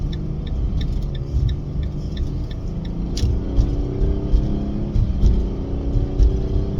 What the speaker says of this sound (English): Commercial break of me driving through intersections and focusing